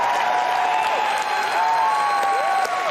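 A crowd applauds and cheers at the E3 2019 Bethesda press conference, a steady dense roar of clapping that lasts throughout.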